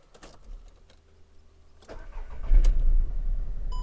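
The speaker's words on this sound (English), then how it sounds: "There we go, so we've got a misfire." A car engine is started with the ignition lead pulled off cylinder 2, leaving it misfiring; faint clicks give way to the engine catching and running rough and loud nearby.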